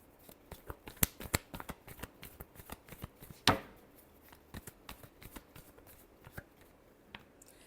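Tarot cards being shuffled up close, a quiet run of soft flicks and riffling taps with one sharper slap partway through, no voices.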